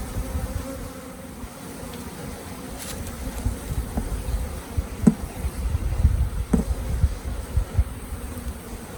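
Honeybees buzz steadily around an open hive during a spring inspection, a dense close drone with a few sharper passes near the frames of nectar and brood.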